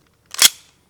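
A SIG Sauer P320 XFive pistol slide slams home with one sharp, loud metallic clack at a shooting range, a short double-edged impact with a brief tail and silence around it.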